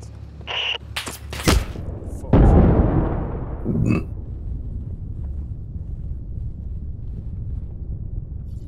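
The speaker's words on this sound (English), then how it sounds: "Fucking our mortars, always with the mortars." Mortar fire in the Six Days in Fallujah shooter game: a few sharp bursts, then a heavy booming explosion that rolls and decays into a rumbling wash, followed by another smaller hit, with faint background noise after.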